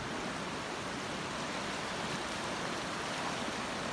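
Steady, loud rush of a fast-flowing river swollen after heavy rain, a continuous roaring hiss with no pauses.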